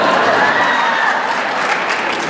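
Comedy club audience answering a comedian's question with a short burst of applause and crowd noise, brief and fairly loud, with steady clapping throughout.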